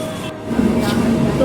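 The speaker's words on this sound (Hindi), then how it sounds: "तो अभी आ गई है हमारी मेट्रो" A Delhi metro train pulls into Welcome station, its low rumble and rail noise filling a crowded platform, close and fairly loud, with a steady hum throughout.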